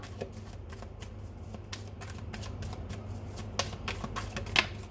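Tarot cards shuffled and drawn close by, a quick crisp run of riffling and flicking card sounds over a low steady background hum, with one sharper snap near the end.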